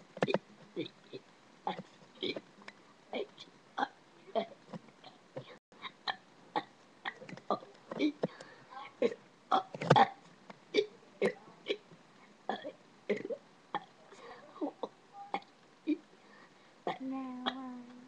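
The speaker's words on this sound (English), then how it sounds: "be burping the ABCs" A person burps the alphabet as a long, steady run of short, sharp belches, each shaped like a spoken letter, one after another at an even pace and close up.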